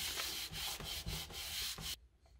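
Polymer clay is burnished by hand with a tool in quick, close rubbing strokes, about five rhythmic scraping passes, then it stops and goes quiet.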